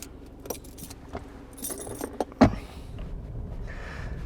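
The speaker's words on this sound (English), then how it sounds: "I might just take these keys off because they do rattle around a bit." Keys on a 2019 Isuzu MU-X 4x4 jangle and rattle near the ignition, a cluster of metallic clinks with one sharp louder rattle midway, over a low idling cabin hum with no talk.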